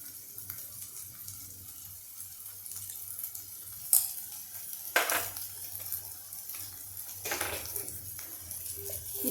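Green pea filling is mixed in a pan with salt, sugar and fresh grated coconut: quiet scraping and stirring strokes, a few sharper clinks, over a faint low hum.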